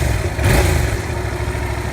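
A 2015 Yamaha FZ-07 naked mid-size sportbike, lowered two inches, runs its engine in a steady mid-pitched drone with a brief louder swell near the start, close and continuous without talk.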